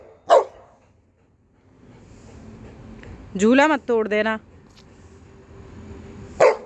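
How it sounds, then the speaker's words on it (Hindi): A dog barks in a quick burst of several yaps, loud and close, while a person speaks nearby at a playground swing, with a sharp knock heard near the start and near the end. "कैसे भौंक रहा है।"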